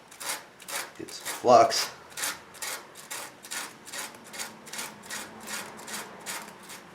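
A 1973 Ford F-250 radiator's damaged fins are sanded before soldering in quick, rhythmic back-and-forth rasping strokes, steady and close, with a few spoken words early on.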